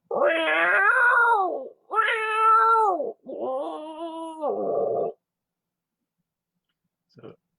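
A person imitates a cat with a voice, making three long drawn-out meows, loud and close, followed by a short faint sound after a pause.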